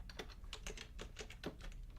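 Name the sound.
typing on a computer keyboard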